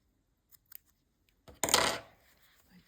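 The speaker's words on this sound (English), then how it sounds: "now we can cut off the yarn." A few faint taps come first, then a single crisp metallic snip as scissors cut the yarn off a small crochet snowflake, with a brief ring-out afterward and near silence around it.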